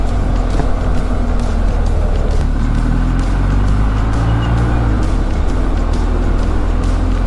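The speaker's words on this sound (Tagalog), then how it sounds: "Traffic." Steady road traffic drones heavily around a rider on a BMW R1250 GSA in Batangas, with dense low engine rumble, wind buffeting and vehicles passing close by, loud and continuous.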